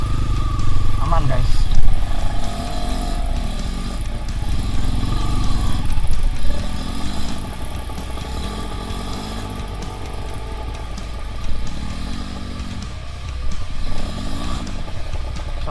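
A trail motorcycle rides off-road around Pondok Halimun, its engine droning and rising in repeated rev swells, with people talking over it throughout.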